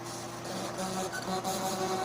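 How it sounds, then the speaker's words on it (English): Garbled, broken game music from a PlayStation 2 dev kit plays as a faint, buzzing, mechanical-sounding tonal drone with wavering pitches and no clear melody, fairly steady for about two seconds. "The music is completely fucked up and does not work at all."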